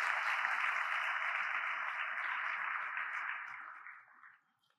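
Sustained applause from a luncheon audience at a Sea Services expo event, a dense steady roar of clapping that holds strong for about four seconds and then fades away to near silence.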